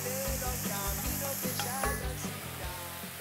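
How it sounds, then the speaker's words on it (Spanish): Diced pancetta hits a hot pan already holding spring onion and red pepper for a lentil stew, setting off a loud, steady sizzle with crackling pops throughout. "Mirá la panceta como cae."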